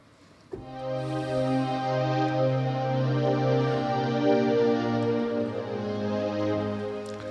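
A sustained, lush string pad chord swells in after a brief pause and holds steadily, rich and smooth with a gentle shimmering texture.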